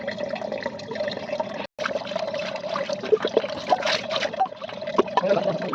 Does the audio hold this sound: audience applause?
no